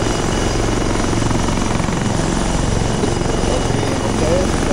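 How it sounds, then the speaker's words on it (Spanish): A helicopter in the military video game Arma 3 drones loud and close, a steady rotor and engine roar with a pulsing low beat that fills the whole stretch without a break. "si no puedo hablar con esa mierda ahí haciendo bulla, ¿quién está en el helicóptero, pues?"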